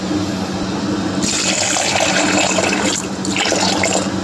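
Water pours steadily into a cooking pot of vegetables, a loud, close splashing stream that keeps running for several seconds.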